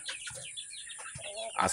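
Heritage chickens, Hulauan Asil breed, cluck close by in a breeding area in short, uneven bursts, with a few higher chirps and a louder squawk near the end.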